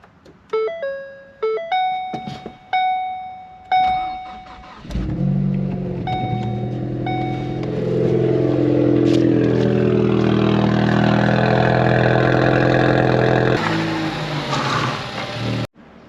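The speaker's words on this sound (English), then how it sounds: "Cold start, let's go." A 2013 Ford Focus ST race car cold-starts after several chime tones, the engine catching with a rising rev and then holding a loud, steady idle close by.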